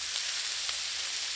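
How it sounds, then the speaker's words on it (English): Bacon sizzles on a Blackstone griddle, a steady close hiss of frying fat running unbroken throughout with no voices. "now it's time for the traditional Festivus flipping of the bacon"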